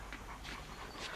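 A dog pants in quick breathy bursts with soft whimpers, close and fairly faint, over a low steady background.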